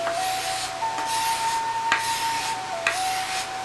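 A blade scrapes along a wooden limb in repeated, rasping strokes, producing a dry, hissing rub that continues steadily at close range, with a couple of sharper catches partway through.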